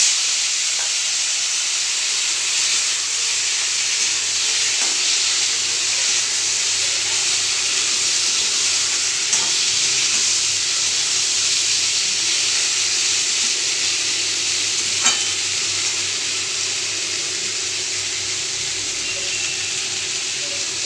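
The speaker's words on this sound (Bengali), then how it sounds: "তো অল্প করে জল দিয়ে আমি কষে নিচ্ছি, যাতে মশলার গ্যাসটা না ধরে।" Spice masala sautéing with a little water in a pan gives a steady, even sizzling hiss throughout, with a few faint clicks of a utensil against the pan.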